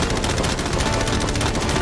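A machine gun fires at a yacht in one loud, close, unbroken burst of rapid shots with no pauses.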